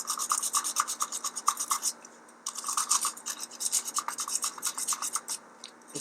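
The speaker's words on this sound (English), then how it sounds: "I've got some pretty serious grit sandpaper here, but it's all I have. It's 100 grit, so it's pretty rough" Metal on a vintage Lionel Marx toy train set being sanded with coarse 100 grit sandpaper: steady, rhythmic rasping back-and-forth strokes, close and fairly loud, with a short pause midway before the scraping resumes.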